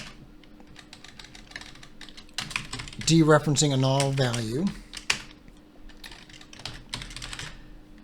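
Rapid clicking on a computer keyboard, close and continuous, with someone talking over part of the typing.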